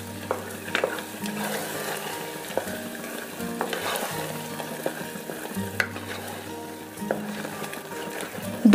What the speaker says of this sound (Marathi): दोन ते 3 मिनिट आपल्याला हे वाटण तेलात असंच परतून घ्यायचं आहे